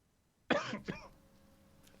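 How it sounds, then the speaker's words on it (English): A man coughs twice in quick succession, close to the microphone, with a sharp first burst and a shorter second one, then only faint room tone. "Sorry to make you cough there"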